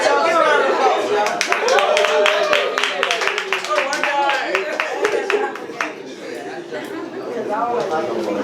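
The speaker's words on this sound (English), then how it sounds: "give a round of applause, y'all" Scattered clapping from a small audience at a writing session, the claps sharp and uneven and loosely spaced, with chatter and talking over them the whole way through.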